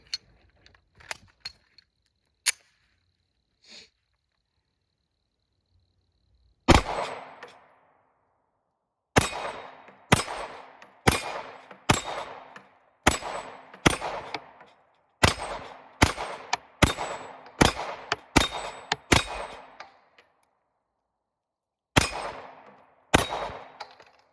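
Pistol shots from an SA35 handgun at an outdoor range, each crack followed by a ringing clang of steel targets, fired in quick irregular strings with pauses between volleys.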